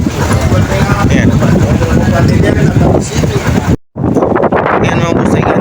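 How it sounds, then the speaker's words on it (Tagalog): Strong wind buffets the microphone at a ferry port, a loud continuous roar with gusty rumble, briefly cut off near the end before resuming; boat and water noise mix in. "Malakas yung hangin pa rin."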